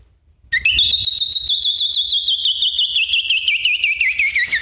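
A person whistles an imitation of a calling bell, a loud, sustained, piercing electronic-style tone with a rapid warbling trill, running continuously for about four seconds after a short silence.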